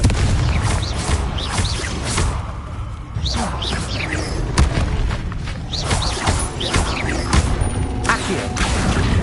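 Confringo fire spell explosions in Hogwarts Legacy, repeated loud booms and crackling blasts amid whooshing combat effects, with a voice shouting over the busy battle noise.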